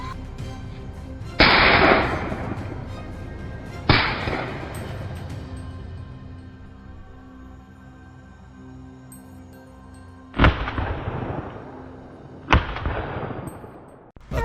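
Rifle shots fired at a wild boar near grapevine rows on a farm: four sharp, loud cracks, two close together early and two later, each trailing off in a long echoing decay over low outdoor background.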